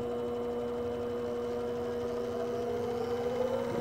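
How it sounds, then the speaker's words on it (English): Spindle motor of a CNC lathe on a DC motor controller under a Centroid Acorn control hums steadily, its whine drifting slightly in pitch near the end as the speed changes, with no one talking. "as I jog the tool to a larger and larger X value, the spindle is slowing down"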